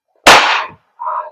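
A WE Glock 17 Gen 5 airsoft gas blowback pistol firing a single sharp, loud crack, followed a moment later by a shorter, softer hiss of gas and slide action.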